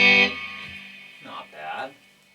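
Electric guitar through a Boss GT-1000 processor's tweed combo amp simulation, a loud struck chord ringing out at first, then quieter notes and a short phrase fading under the decay.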